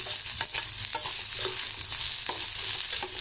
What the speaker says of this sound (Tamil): இந்த பூண்டு வெங்காயம்லாம் நல்லா வதங்கணும்